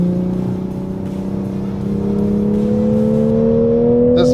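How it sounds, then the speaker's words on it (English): Engine of a Toyota GR Supra with the intelligent manual transmission, blipping revs to match a gear change while driving on a road, a steady loud drone rising slowly in pitch, alone with no talk. "That's that intelligent manual transmission. So it's doing the automatic rev matching."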